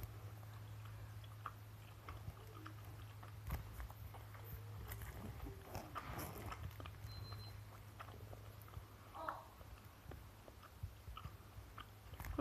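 Someone chewing ten-year-old gum, soft wet chewing that goes on steadily and close up under a constant low hum, with no talk.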